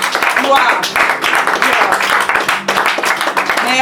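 Congregation in a church service clapping and applauding in praise of the Lord, a loud, steady burst of hand claps that continues throughout, with voices mixed in beneath.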